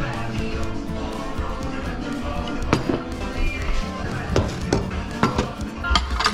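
Dishes and metal utensils clink and clatter in a home kitchen during tidying, with scattered sharp knocks and rattles over a steady, busy background and a faint voice.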